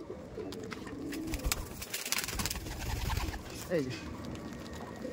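Restless pigeons in an old home loft where birds are being sold coo and flutter close by; a few warbling coos rise over the rustling while a voice talks faintly underneath.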